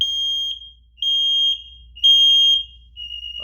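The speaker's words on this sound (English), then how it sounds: "we're going to go ahead and push test and get the alarm set" A DSC security system smoke detector under test sounds its alarm, loud piercing high beeps in a steady pattern of about half-second pulses, close and alone, with a voice starting right at the end.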